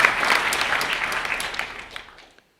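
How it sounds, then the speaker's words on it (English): Applause from an audience at a fifth-anniversary welcoming event, a dense burst of many hands clapping that starts loud and close, then thins and fades away over a couple of seconds. "Let's give them a round of applause."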